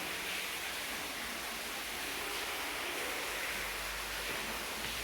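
Water from a spring well rushes and splashes continuously, a steady dense wash of flowing water with no pauses, close by and fairly loud.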